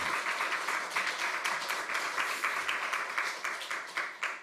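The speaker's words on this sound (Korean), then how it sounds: "네, 박수 한번 주시기 바랍니다." A church congregation at a Sunday service applauds in a steady, sustained round of clapping that continues at an even level throughout, with no talking over it.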